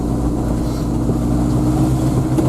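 A car engine runs nearby outdoors in early spring, a steady low rumble with a faint hum, continuous and fairly loud with some wind noise and no talking.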